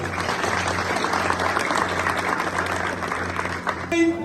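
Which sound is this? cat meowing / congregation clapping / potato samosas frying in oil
congregation clapping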